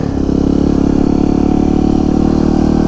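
A supermoto motorcycle engine held at full throttle during a wheelie attempt, a loud, steady, sustained drone that starts with a brief rise and then holds one even pitch throughout, close up with no talking.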